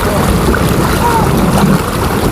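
Boat moving on water, a steady loud rush of engine, water and wind buffeting the microphone, with voices talking over it.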